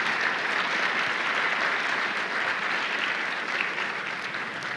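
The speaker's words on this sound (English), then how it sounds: "If you would please give them all a round of applause" Steady, dense applause from a crowd at a regional community gathering honouring school board members, sustained evenly throughout and fairly loud.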